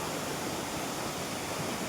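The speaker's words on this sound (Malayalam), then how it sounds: "നല്ലൊരു വെള്ളച്ചാട്ടമാണ്" A small waterfall in a quiet spot, giving a steady, unbroken broadband rush of falling water with no voices.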